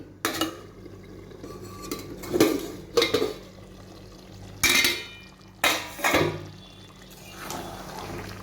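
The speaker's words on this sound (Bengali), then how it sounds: "ঢাকনাটা খুলছি" A pot lid is lifted off chicken that has been cooking covered over a medium gas flame, giving several sharp metallic clinks and clatters of lid and cookware, close and fairly loud over a low steady hum.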